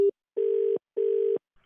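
Telephone line tones during a radio prank call: a short beep followed by two longer, evenly spaced steady beeps, clean and isolated in silence, typical of a call-ended signal.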